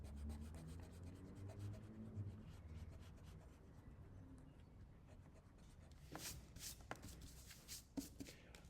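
Quiet, steady rubbing and scratching of an eraser working over pencil lines on paper, continuing with a few firmer strokes near the end.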